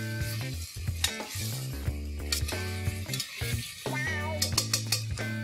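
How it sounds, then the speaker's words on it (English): Mutton sautés with ginger garlic paste for a Maharashtrian Saoji curry, with a steady sizzle and light scraping stirs in the pan under louder background music. "I'm going to add ginger and garlic paste. And saute till the raw aroma of the ginger and garlic goes off."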